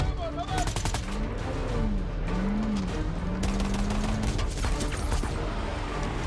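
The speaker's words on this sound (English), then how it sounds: "But you can't shoot those pistols that fast until they're upgraded." Rapid pistol gunfire in the video game Saints Row 4 crackles as dense bursts of sharp shots over a loud, busy game soundscape, with a low whining tone sweeping underneath.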